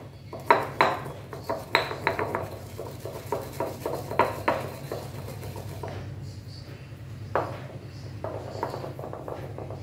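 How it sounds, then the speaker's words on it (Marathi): Cumin seeds being crushed coarsely, a close series of sharp knocks and taps in an uneven rhythm, fading to softer strokes after a short pause. "हे जे जिरे आहेत ते मी इथे ठेचून घेत आहे। ओबडधोबड ठेचायचे आहेत"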